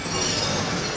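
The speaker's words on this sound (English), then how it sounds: "as we pull into Main Street Station, please remain seated until the train comes to a full and complete stop" Magic Kingdom steam train pulling into Main Street Station, heard as a loud, close, continuous rumble with a high, thin wheel squeal held over it and no speech.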